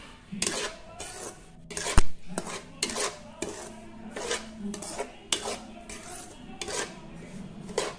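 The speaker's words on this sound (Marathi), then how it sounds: "आपण ह्याच्यामध्ये आता रवा टाकूया आणि चांगला भाजून घेऊया।" Semolina dry-roasting in a hot pan for Konkan-style fenugreek laddoos, with repeated close scraping and clinking of a spoon against the metal in an irregular rhythm, and no voices.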